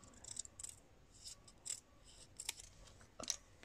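Scissors cutting paper for a scrapbooking box make faint, crisp snips and rustles, several short cuts scattered unevenly, close and quiet with no voices.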